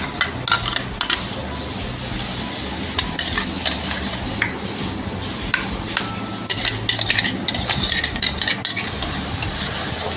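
Onion, capsicum and peas sizzling in a pan on a griddle, a dense steady fry with frequent metallic clicks and scrapes from stirring, close up and without speech.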